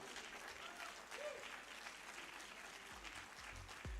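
A round of applause from the audience at a Rotary club gathering, steady dense clapping throughout, moderately distant and fairly quiet, with no talk over it.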